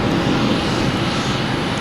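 A JetBlue airliner on approach to Boston Logan Airport produces a steady, moderately loud engine rumble and whine that holds constant throughout the short stretch.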